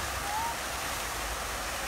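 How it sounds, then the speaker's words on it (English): Continuous broadband rush of falling water from a waterfall at an arboretum in Arcadia, California, steady and enveloping, with a faint high whistle-like tone briefly audible near the start. "I can feel the cool breeze standing right here by the waterfall."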